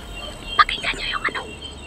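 Birds calling in a forest, a handful of short, bright chirping notes close by, some in quick pairs, over a quiet background with faint insect hiss.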